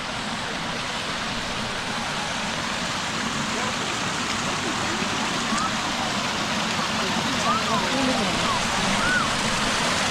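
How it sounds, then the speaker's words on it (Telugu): Small waterfall beside a Shiva temple, a steady close rushing of water filling the whole stretch at an even level, with faint voices and a few short chirps over it. "ఇక్కడ చిన్న వాటర్ ఫాల్ లాగా ఉంది."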